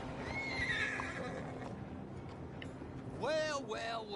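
Horse whinnies in a video game on PS4, rising and falling calls near the end, loud over steady game ambience and background music.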